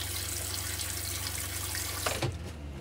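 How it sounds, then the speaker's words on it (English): Water runs steadily into an RV toilet being flushed out during de-winterizing, a soft continuous rushing close by, with a brief splashy change near the end. "we want to make sure we flush out all that pink from the toilet"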